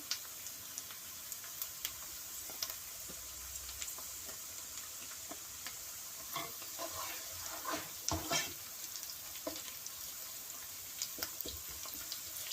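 A steady hiss of ginger and garlic frying in a pan over medium flame, with scattered clicks and scraping stirs, fairly quiet and continuous with no talking.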